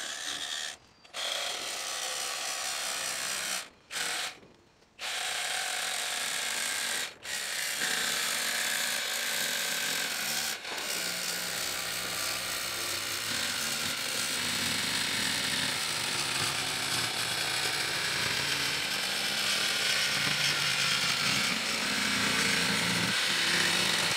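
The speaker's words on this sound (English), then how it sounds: "Simple case, jigsaw with a nice fine cut blade, ear defenders and some steady hands." A jigsaw with a fine-cut blade cuts wood while fitting out a narrowboat bathroom, producing a rasping, buzzing cut that stops briefly a few times early on, then runs steadily and close to the end.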